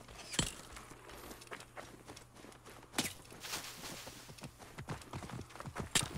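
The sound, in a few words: horse hooves clip-clopping in video game Assassin's Creed Origins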